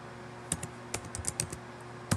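Typing on a computer keyboard comes as a quick run of sharp, uneven clicks with a louder keystroke near the end, close and fairly quiet over faint background hiss, with no speech.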